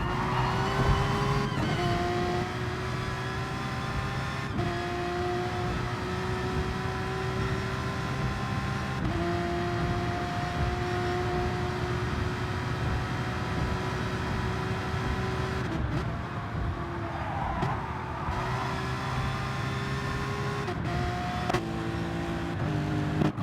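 Race cars in a sim racing game lapping Tokyo South Inner during a one-hour endurance replay, engines droning loud and steady with rising and falling revs and gear shifts, several cars close together throughout.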